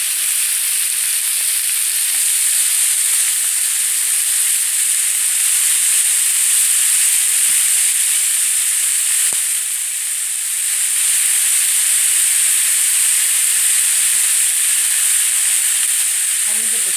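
Sliced lamb heart sautéing in a hot pan, a loud, steady hissing sizzle held close for the whole stretch, briefly dipping once, with no talking over it.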